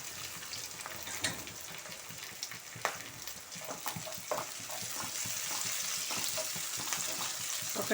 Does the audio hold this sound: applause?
no